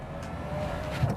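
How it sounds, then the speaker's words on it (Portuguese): The power windows of a 2024 Renault Kwid grind noisily as they move up and down, a steady mechanical whine heard close up inside the car with no talking over it. "Os vidros não são um toque e eles fazem um barulho muito grande aqui ao subir e descer"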